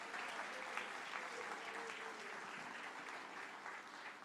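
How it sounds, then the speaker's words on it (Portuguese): Church congregation applauding the Lord during an evening worship service, a dense steady wash of clapping from many hands that continues throughout the clip. "Pode aplaudir ao Senhor bem forte."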